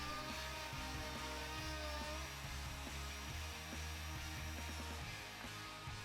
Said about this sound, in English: use your plunge router and place it inside the jig and plunge down and start routing out